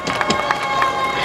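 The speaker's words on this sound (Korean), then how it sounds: "한번 큰 박수 부탁드립니다." Crowd at an outdoor rally clapping, a short burst of scattered claps and cheering that is fairly close and steady, with a voice mixed in.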